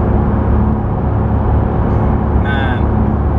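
Close, steady rumble of a Porsche 991 GT3 being driven on the road, a constant low engine and road drone filling the cabin with a brief higher whine partway through.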